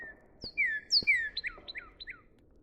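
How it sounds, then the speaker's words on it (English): Bird chirps and whistled calls in the forest game The Trees Have Eyes, a cardinal among them: a series of clear, sweet notes, some sliding, repeated in quick succession, close by and alone over quiet ambience. "Sounds like there's a bird right above my head."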